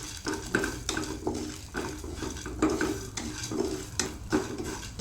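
Urad dal, fenugreek, coriander seeds and cumin dry-roasting in a pan, with a steady run of scraping stirs and light rattling of seeds against metal, close and fairly loud, no talking.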